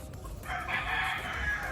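A rooster crows loudly and close by in one drawn-out call at a gamefowl farm, with low farmyard background noise.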